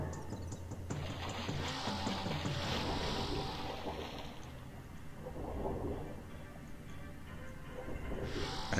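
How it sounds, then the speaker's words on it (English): Submerged underwater ambience with music from the Turok: Dinosaur Hunter video game: a steady, dense, watery wash of rushing noise and low rumble that swells and ebbs throughout, with no talking. "anytime you go underwater, it, it switches to this music. And it kind of, you know, gives you a, your submerged subterranean sound."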